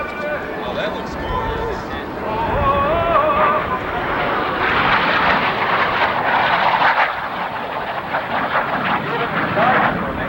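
A Frecce Tricolori jet of the Italian Air Force roars past at high speed at an airshow, a loud building rush under an announcer's commentary.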